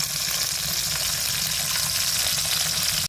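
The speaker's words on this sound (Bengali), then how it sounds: "এবার মাছগুনা তেলে ভেজে নেওয়ার জন্য দিয়ে দিলাম তেলে" Chang fish fry in hot oil for a pumpkin bori curry, giving a steady, dense sizzle that stays close and even throughout with no talking.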